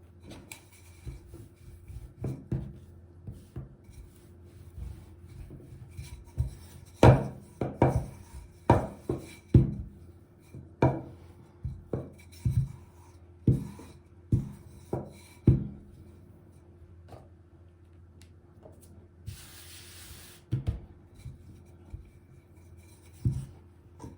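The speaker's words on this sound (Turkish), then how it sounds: "Şimdi portakal büyüklüğünde ayırdığımız hamuru biraz açalım" Tart dough being rolled out and handled on a work surface, giving a run of soft thumps and rubbing knocks, irregular and close, clustered in the middle, with no talking.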